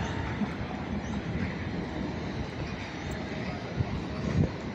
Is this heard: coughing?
no